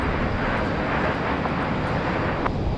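Southwest airliner arriving from Denver at Raleigh-Durham airport: a loud, steady broadband jet roar filling the whole span, close and unbroken, with no talk.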